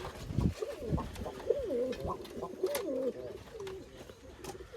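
Pet pigeons coo nearby in a loft, with repeated soft rolling coos overlapping across the whole stretch and a brief thump of movement near the start.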